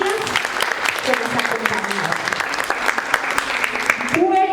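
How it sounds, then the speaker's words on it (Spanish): An audience at a conversation panel gives a speaker steady, moderately loud applause, crisp claps throughout, with a voice starting to speak just as it winds down. "Un fuerte aplauso para Nidia"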